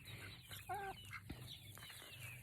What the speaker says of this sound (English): Chickens are eating some leftovers.